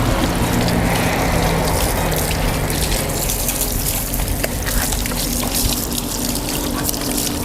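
Water sprays hard and steadily onto a Honda Nova motorcycle being washed, a loud, continuous hissing gush with no pauses and no talking.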